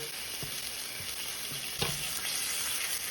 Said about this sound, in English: So now I'm gonna add a little bit of butter